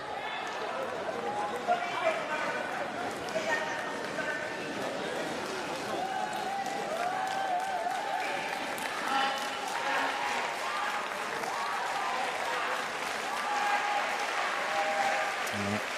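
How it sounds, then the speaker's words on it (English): Sustained crowd applause from supporters filling a para badminton arena after a wheelchair doubles gold medal match, steady and broad throughout, with a commentator's voice running over it. "Take the applause of the supporters of the crowd here at the Porte de la Chapelle Arena"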